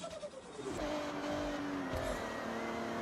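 A stock Toyota Supra driving in the Forza Horizon 6 racing game, its engine note droning steadily throughout with a rising and falling pitch as it shifts, faint tire noise underneath, and no voices.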